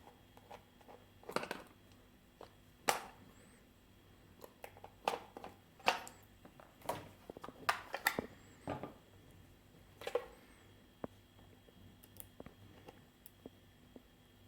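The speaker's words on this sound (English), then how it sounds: "Let's open it and install the battery." Close plastic clicks, snaps and rattles in an irregular run as the casing of a Powerfix PDM 300 B1 digital multimeter is pried open and a battery is pushed into place.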